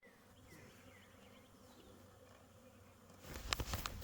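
Dense, continuous buzzing of honeybees around a split hive holding a large colony, swelling louder and closer near the end as bees fly right by.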